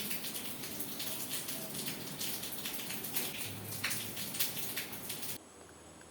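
Steady rain falls outdoors during a home meal, a dense, even patter of drops with occasional brighter splashes, continuous and moderately close, then abruptly quieter near the end.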